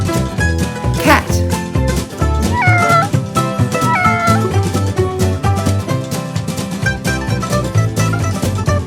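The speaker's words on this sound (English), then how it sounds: "Cat." A toy cat from a farm animal toy set meows several times, clear and close over continuous background music.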